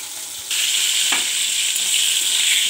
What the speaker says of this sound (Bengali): পটলটা ভাজা হচ্ছে,